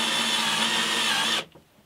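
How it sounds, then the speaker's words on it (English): A power drill runs steadily while clearing plywood chips from its bit, a continuous loud whir that cuts off abruptly near the end, leaving near silence. "I'm now going to have to clear it out of the drill"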